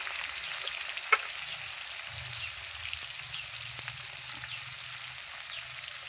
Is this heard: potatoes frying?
yes